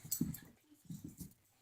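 A dog whimpers softly in short, faint yelps and whines while waiting by a door to be let outside, with a few quiet broken bursts and no one talking over it.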